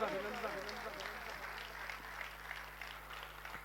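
A crowd at a Hanuman festival honour ceremony gives sustained clapping, steady and fairly faint as if heard from a distance, lasting the whole stretch without voices on top.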